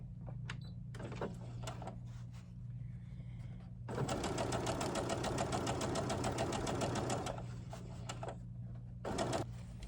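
Sewing machine stitching a doll dress for an 18-inch doll, a fast steady run of stitches from about four to seven seconds, with short bursts and handling noise before and after under a constant low hum.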